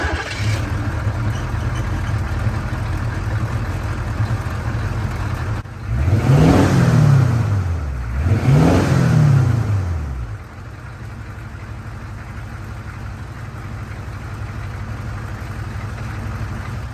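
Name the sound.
1985 Chevy M1008 CUCV 6.2 diesel engine revving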